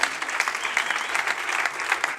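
A church congregation breaking into applause, a dense, continuous patter of many hands clapping together, lively and close, filling the space without pause.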